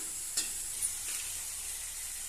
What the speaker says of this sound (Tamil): இஞ்சி பூண்டுலாம் நல்லா பச்சை வாசனை போகிற அளவுக்கு நல்லா வணங்கிடுச்சுங்க